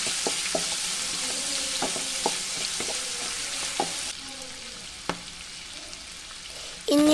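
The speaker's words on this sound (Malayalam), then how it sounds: "നല്ലതുപോലെ വഴറ്റുക." Ginger, shallots and curry leaves sauté in hot oil for prawn masala, a soft steady sizzle punctuated by regular spoon clicks against the pan, close and without talk.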